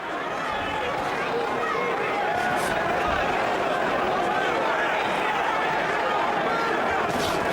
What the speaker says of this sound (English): you'll hear crowds reacting when he lands punches